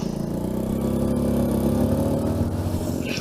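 Motorcycle engine running steadily while riding on the road home from Borobudur, a loud, continuous mid-pitched drone with a slight rise near the middle and no talking.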